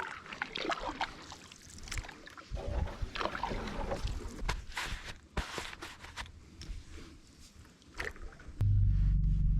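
Water sloshing and knocking sounds as a small fishing boat is unloaded from the water, with scattered thumps, footsteps and light wind noise, ending in a low rumble.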